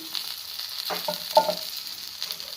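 Eggplant slices frying in oil in a pan, a soft steady sizzle with a few brief spatula scrapes and clinks in the middle, fairly close and quiet.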